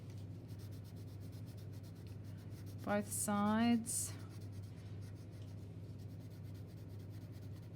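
The side of a pencil rubs back and forth across paper while colouring an origami dragon eye, a brief close scratchy scribbling burst in the middle, with a person speaking briefly.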